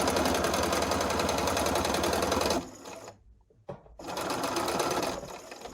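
A sewing machine stitches quilt blocks with a fast, loud, rhythmic whirr that stops for about a second and a half, then starts again and runs on to the end.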